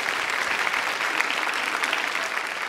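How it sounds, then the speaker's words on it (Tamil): Steady, dense applause from a studio audience at a Tamil speech competition in Chennai, a continuous wash of many hands clapping at even loudness throughout with no voices over it. "நம்ம எல்லாரும் சேர்ந்து ஒரு பலத்த கரகோஷம்."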